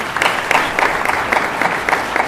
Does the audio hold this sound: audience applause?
yes